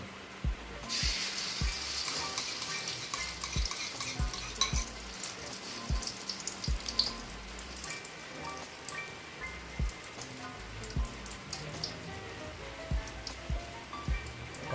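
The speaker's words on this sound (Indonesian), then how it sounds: "Kalau minyaknya udah panas, baru kita goreng." Food frying in hot oil in a home kitchen, a Palembang lenggang dish with tekwan, sizzles steadily with crackling spatter, close and continuous, punctuated by occasional sharp pops and utensil knocks.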